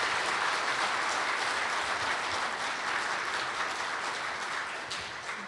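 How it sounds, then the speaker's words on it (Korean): An audience at a business CEO forum gives sustained, even applause after a guest lecture, a continuous wash of many hands clapping at moderate distance that tapers slightly toward the end. "큰 박수 한번 부탁드리겠습니다"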